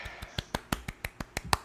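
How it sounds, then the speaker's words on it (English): A single person clapping, about ten sharp, close hand claps in a quick steady rhythm, quiet and alone with no talk. "Even though Luke came up with the idea, I'm clapping for it."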